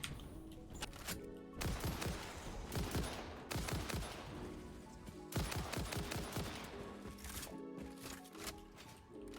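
Rapid automatic gunfire in the video game Satisfactory fills nearly the whole stretch, dense overlapping shots in sustained loud bursts with only brief lulls.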